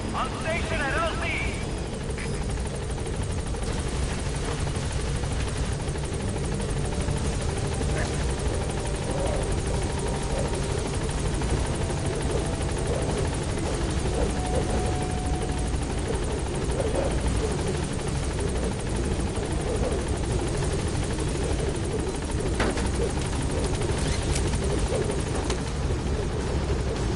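Pequod, the transport helicopter in Metal Gear Solid V: The Phantom Pain, arriving at a landing zone with a steady, loud rotor drone that runs throughout, with radio chatter heard over it.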